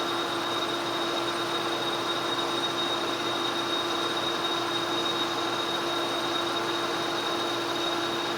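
A metal lathe cutting a cast iron gear blank with a new insert at reduced RPM produces a steady, continuous machining drone with a constant whine, even in level and uninterrupted.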